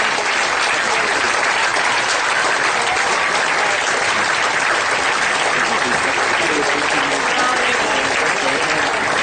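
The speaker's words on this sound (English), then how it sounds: "let's give a big cheer to our new chairman" A large audience applauds and cheers loudly and continuously as a new chairman comes on stage at a tribute show, forming a dense, sustained roar of clapping with no pauses.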